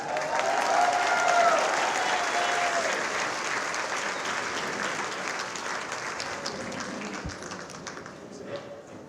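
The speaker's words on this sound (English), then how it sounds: "give a warm round of applause for the Mary's Place Choir" An audience at a luncheon gives sustained applause for a choir, with dense clapping that is loudest at first and then eases off gradually, a few voices faintly mixed in.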